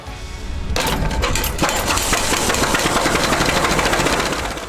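A big vintage prairie tractor engine runs in a collector's yard, starting with a sudden burst and settling into a loud, steady, rumbling drone with rapid rhythmic firing throughout.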